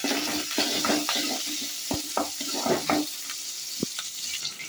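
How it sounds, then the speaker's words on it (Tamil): Onions, green chilies and curry leaves sizzle steadily in hot oil for a Sri Lankan fish curry, with close scraping stirs breaking through the frying hiss. "இந்த வெங்காயம் பச்சை மிளகாயை போடுவோம் அதோட கருவேப்பிள்ளையும் போடுவோம் போட்டுட்டு வளர்க்குவோம்"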